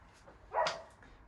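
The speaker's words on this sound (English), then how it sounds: "These fucking dogs." A single short dog bark, fairly distant and moderately loud, rises briefly out of a quiet indoor background.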